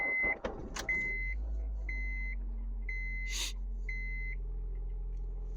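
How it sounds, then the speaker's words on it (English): A 2006 Honda Civic cranks and fires up with a short churning start, then settles into a low steady idle while a warning chime beeps at regular intervals over it. "Car starts."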